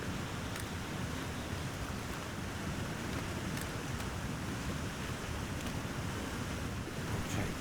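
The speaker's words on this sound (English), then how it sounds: "there's the waterfall" A waterfall in the survival video game The Long Dark rushes in a steady, broad wash of noise, constant and moderately faint, with no talking over it.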